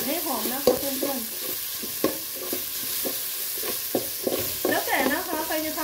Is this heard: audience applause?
no